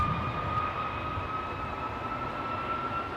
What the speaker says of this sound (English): The Air Canada in Star Alliance livery, outbound to Toronto.